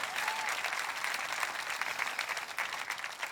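A church congregation applauds in a dense, even wash of clapping that holds steady across the whole stretch without pause.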